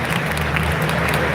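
A large convention crowd at MagicCon Las Vegas, a Magic: The Gathering event, applauds and cheers steadily as one dense, continuous wash of clapping with a low hum beneath, and voices are mixed in.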